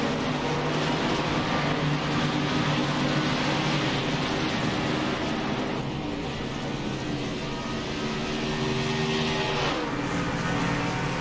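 Race cars pull onto pit road at Daytona and blend into a steady, loud engine roar that swells and eases slightly over about eleven seconds, with no voices over it.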